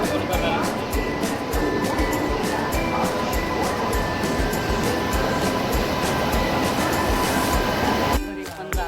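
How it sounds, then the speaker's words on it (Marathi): A train pulling into a station platform, its heavy continuous rumble and rolling wagons filling the scene with a few metallic squeals, people's voices mixed in the background, before the noise drops away near the end. "चला बघू आता ट्रेन येते."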